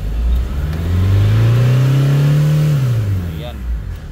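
A 2007 Kia Carens with a D4EA diesel engine and stored turbo underboost fault codes revs once, rising in pitch, holding high for a moment, then falling back, close and loud.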